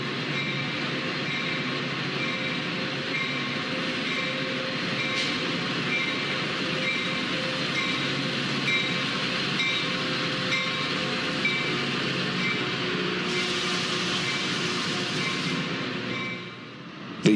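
Trains rumble steadily at a busy Chicago Metra station, a continuous broad roar of rolling cars and wheels with a faint higher squeal near the end, no voices.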